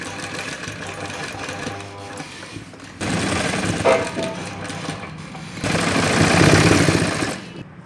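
An electric sewing machine stitches the three sides of fabric for baby summer shorts, running in steady mechanical bursts that speed up and grow louder near the end, with no talk over it.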